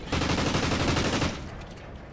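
Rapid video game gunfire in a team shooter match, a dense loud burst of shots lasting over a second before cutting off, leaving quieter background game noise.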